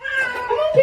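A kitten meows in a quick series of close, high, plaintive cries running together, loud and clear with no talking over them.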